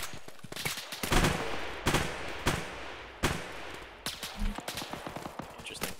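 Bursts of gunfire in the military shooter Arma during an infantry firefight, with sharp repeated shots and short automatic volleys cracking out at irregular intervals over a steady background.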